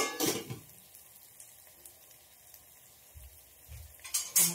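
Fenugreek seeds and turmeric frying in a pan while being stirred give a soft, steady sizzle, with a few utensil scrapes and knocks against the pan at the start and end.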